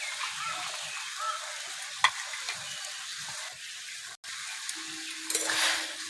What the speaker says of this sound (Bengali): পাপড়িগুলো ভালো করে সিদ্ধ করে দেব।